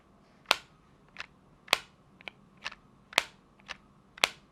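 Flimsy plastic lid of a fake AirPods Pro case snapping open and shut, seven sharp clicky snaps at irregular intervals, close and quiet against a faint background.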